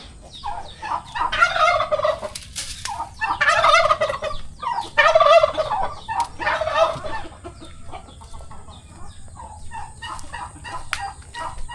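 Turkeys gobble repeatedly nearby in loud, rattling bursts, with other fowl clucking in the background.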